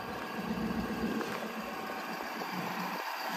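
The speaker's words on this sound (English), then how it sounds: "just how loud this turbo diesel is. It just sounds like a true diesel in my opinion" A 2023 Ford F-250 XL's 6.7 Powerstroke turbo diesel idles close by, giving a steady, loud, rough rumble with a constant low drone and no speech.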